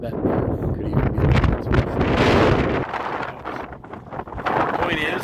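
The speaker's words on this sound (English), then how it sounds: "Sorry about the wind." Outdoors at a sandy rock-hounding spot, gusting wind buffets the microphone with loud, rumbling low-end roars that swell and ease continuously, with no clear speech.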